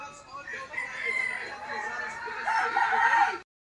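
A gamefowl broodcock crows once at a small rooster farm, a long, fairly close call that swells and ends abruptly, with a faint voice in the background.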